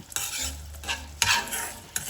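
Close-up scraping and stirring of a spatula in a pan while ingredients fry for aval vilayichathu, a sweet flattened-rice dish. Several quick strokes ride over a soft, steady sizzle with no talking.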